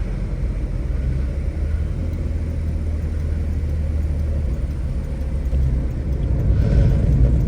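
A 1967 Volvo 1800S driving along, its engine rumbling steadily at cruising revs with road noise, shifting out of overdrive near the end as the tone rises and swells slightly louder.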